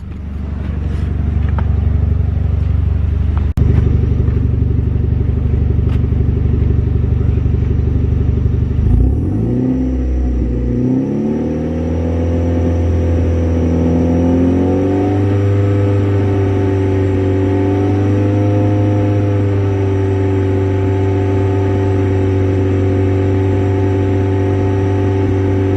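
A heavily modified Hyundai Genesis Coupe 2.0 Theta I4 idles loudly, then stumbles, is revved up and settles into a higher, steady drone around 3,000 RPM.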